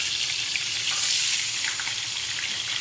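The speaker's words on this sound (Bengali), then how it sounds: "তেলটা গরম হয়ে গেছে, এখন আমি আস্তে আস্তে করে মাছগুলো ছেড়ে দেবো।" Fish coated in salt and turmeric dropped into hot oil, a dense, loud, unbroken hiss of frying up close, holding steady with no voices.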